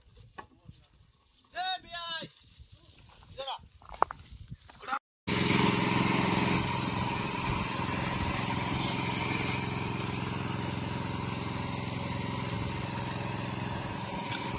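A motorized spraying machine in a Hapus mango orchard in Konkan starts after a few seconds of people talking, then runs as a loud, steady engine drone with a mower-like buzz until the end.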